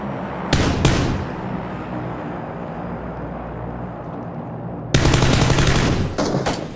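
Machine gun fire in PUBG comes in two loud, close bursts, a short one near the start and a longer rattling one toward the end, separated by a steady low ambient rumble.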